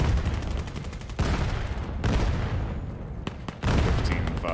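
Pistol shots crack in the VR shooter VAIL, several sharp reports in quick succession amid dense match noise with a faint commentator's voice.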